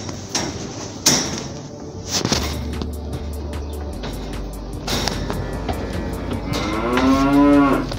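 Cows in a cow barn low and moo close by, one long drawn-out moo rising near the end, over a steady low barn hum with scattered clatter and knocks.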